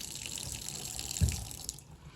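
Hot water runs from a faucet in a seasonal cottage being winterized, a steady close hiss of flow with a brief splash or surge near the middle, fading toward the end.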